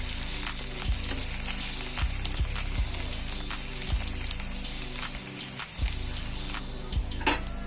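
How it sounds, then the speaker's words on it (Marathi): Ginger garlic paste frying in a pan for eggplant bharta, giving a dense, continuous close sizzle broken by soft low thumps of a spoon moving the paste. "या ठिकाणी आपलं छानपैकी आलं लसूणची पेस्ट जी आहे ती छान फ्राय झालेली आहे"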